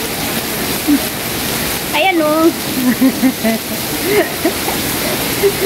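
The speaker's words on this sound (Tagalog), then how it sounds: "Kahit umuulan" Steady rain hisses in the background, with a person talking briefly over the downpour.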